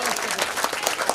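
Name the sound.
audience clapping at a religious gathering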